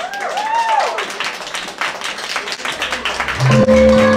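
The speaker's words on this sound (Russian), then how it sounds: "Ваши аплодисменты." Applause from an audience at a fashion show collection presentation for a new boutique breaks out as a spread of claps, moderately loud and continuous, with a brief tonal musical sound entering toward the end.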